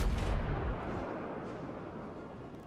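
Heavy naval gun salvo from the Kaiser battleship in World of Warships: a deep booming blast at the start that rolls off into a long rumbling decay, with no talking.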